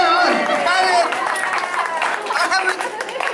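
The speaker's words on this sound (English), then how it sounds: "Let's give Joe a round of applause." An audience at a senior health fair on Halloween claps for a volunteer, with a brief burst of clapping under lively crowd chatter and a voice talking nearby.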